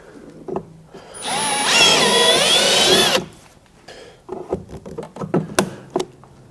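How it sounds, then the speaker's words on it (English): A power drill with a 1/4 inch bit bores into a Jeep Gladiator while fender flares are being installed. It gives one loud, close, continuous whine of about two seconds, followed by scattered clicks and handling knocks. "got a 1/4 inch drill bit is perfect."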